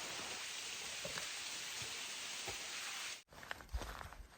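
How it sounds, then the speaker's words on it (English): Rain falls steadily on a hiking trail in the Smokies, giving a dense, even hiss for about three seconds before a sharp cut, followed by quieter patter and a few footstep-like knocks close by. "Here comes the rain."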